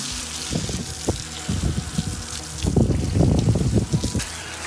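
Water runs from a hose while cold-hosing a young horse's legs, an uneven splashing spray that swells and fades close by, with brief louder bursts as the stream hits.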